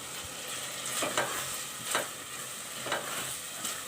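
Dal mash lentils fry and get stirred in a pan, a low continuous sizzle with four evenly spaced scraping strokes of the spoon, close and without speech.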